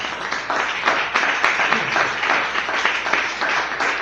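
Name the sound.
congregation applauding in church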